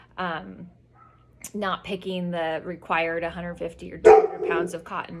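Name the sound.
dog barking outside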